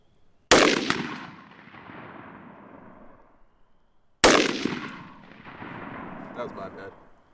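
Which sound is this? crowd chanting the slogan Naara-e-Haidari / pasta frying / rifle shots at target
rifle shots at target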